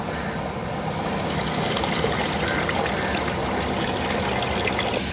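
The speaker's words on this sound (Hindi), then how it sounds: "अब इसका पानी उतार लेंगे।" Water trickles and pours steadily as soaking water is drained off rice that had been soaked half an hour, during preparation of a sweet beef and rice mutanjan dish; a continuous close splashing stream with no talk.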